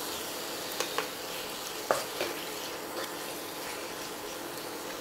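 Spice masala for tandoori beef biriyani sizzles softly in a pan under a steady hiss, with a few sharp spatula taps and scrapes as it is stirred, no voices present.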